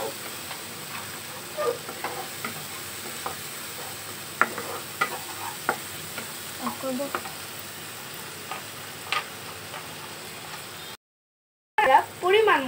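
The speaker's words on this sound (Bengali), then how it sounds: "এবার আমরা মশলার পেস্টটা দিয়ে নেব পেঁয়াজের সাথে। খুব ভালো করে নেড়ে চেড়ে নেব" A spice paste fries with onions for a chital fish curry, soft sizzling under scattered scrapes and taps of a spoon stirring the pan, fairly quiet throughout and cutting out briefly near the end.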